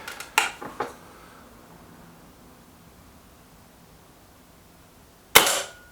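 Kral Pro 500 air rifle fired at a paper target card, a cluster of sharp snapping cracks at the start, a long quiet gap, then one more crisp close shot near the end.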